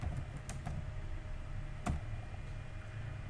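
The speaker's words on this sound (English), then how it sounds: "here I'm typing OR" Typing on a computer keyboard while entering a database query, with a steady run of close key clicks and a few sharper, louder keystrokes standing out.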